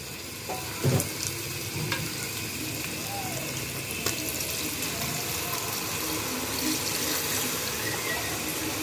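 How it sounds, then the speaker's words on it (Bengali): Water is poured into a pot of braised beef for beef bhuna khichuri, setting off a steady sizzle and bubbling with a few clinks and stirring knocks, moderately close and without talk. "মাংস কষানো হয়ে গিয়েছে। এখন দিয়ে দিব পরিমাণ মতো পানি।"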